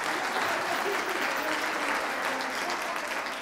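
Studio audience gives sustained, even applause for a keyboard musician at a TV show recorded at Holy Family Hospital, Rawalpindi, with loud steady clapping throughout.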